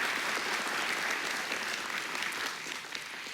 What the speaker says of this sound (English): can we also give another round of applause, please, to Jack Thorne for his speech